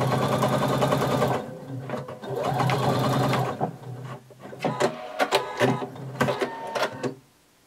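A sewing machine stitches tucks into pleated fabric for a pullover top, running in steady motor bursts with pauses, then a series of sharp clicks and clatters from the machine's handling.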